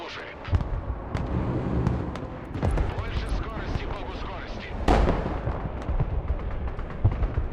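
Bomb blasts and heavy battlefield fire in the military strategy game Broken Arrow, with dense, rumbling explosions repeating throughout and a sharp loud burst near the middle, while a voice talks over the din.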